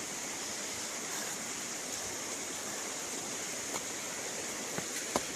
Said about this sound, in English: That is a nice river.